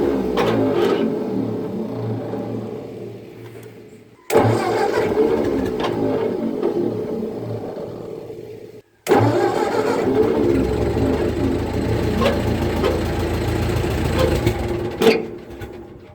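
A 1948 Ford 8N tractor engine starting from cold runs in three long stretches of rough, chugging mechanical clatter, split by brief pauses. It is close and fairly loud, ending with a sharp bump.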